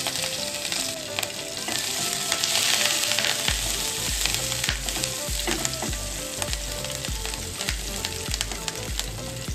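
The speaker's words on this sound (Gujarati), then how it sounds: "મીઠા લીમડાના પાન એડ કરશું અને લીલા મરચાં સમારીને રાખ્યા છે તેને એડ કરશું" Mustard seeds, cumin, curry leaves and chopped green chillies sizzle in hot oil for a tempering, a steady close crackle that stays busy throughout, with rhythmic stirring clatter in the second half.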